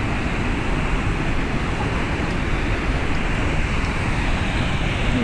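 Steady, loud roar of the waterfall at Crescent Falls, close by, a dense broadband rush that holds constant without pause or change.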